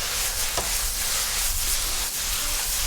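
Vegetables for a plant-based curry sizzle steadily in a hot wok as seasoning goes in, a dense continuous hiss with a brief stirring scrape, close and even throughout.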